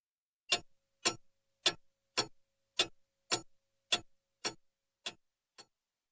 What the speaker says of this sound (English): Tick.